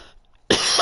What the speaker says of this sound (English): sorry for that cough